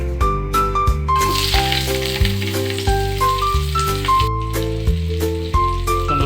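Onion sizzles in hot oil in a home kitchen pan, a steady close frying crackle under a loud melodic music bed that carries through the whole stretch.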